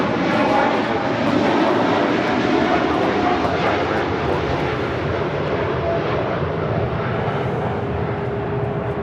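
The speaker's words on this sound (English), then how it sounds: "This is Cargo Lux, Flight 43 X-ray, taking off to Luxembourg on a 747-8 freighter." A Cargolux Boeing 747-8 freighter taking off at LAX, a loud, sustained, thunderous jet engine roar that holds steady and fades slightly toward the end, with faint voices in the background.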